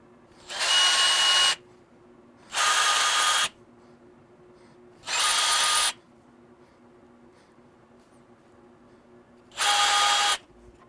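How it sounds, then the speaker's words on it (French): Four separate bursts of a drill boring holes in metal to mount a Givi B47 Blade top case on a Can-Am Spyder rear rack, each burst loud and about a second long, separated by quiet pauses. "je vais venir driller mes trous"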